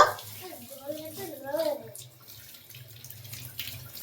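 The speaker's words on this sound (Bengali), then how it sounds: "বন্ধ কর, বন্ধ কর, জলটা বন্ধ কর, জল চারিদিকে পড়ে যাচ্ছে হু হু করে।" Tap water runs and splashes with a steady wash of noise, while a voice speaks briefly over it near the start.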